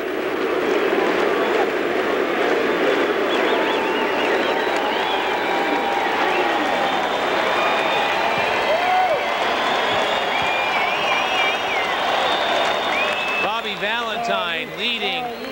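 Large baseball stadium crowd at Shea Stadium in New York cheering, applauding and chanting during a 2001 Braves at Mets game, a loud, continuous roar that holds steady throughout, with rhythmic chanting rising near the end.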